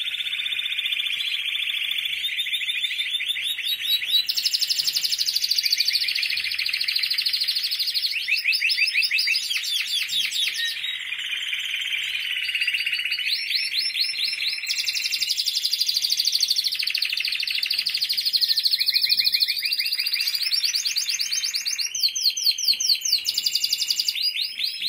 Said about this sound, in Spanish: No he visto pájaro más fuerte que este.